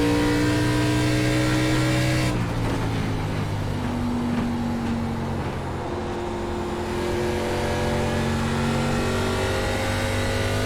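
Simulated ARCA Menards Series race car at Phoenix Raceway oval in iRacing, engine droning loud and steady with a shifting pitch as the throttle is feathered, the tone dipping then climbing again, with no voices.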